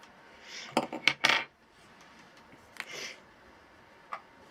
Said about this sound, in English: I'll just grab my scissors.